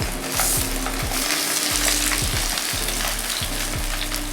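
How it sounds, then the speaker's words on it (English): Salmon fillet sears skin side down in a pan over medium-high heat, giving a loud, steady sizzle and crackle throughout with repeated scraping or stirring knocks, no voices. "Go ahead and drop our salmon skin side first. Get that nice sizzle."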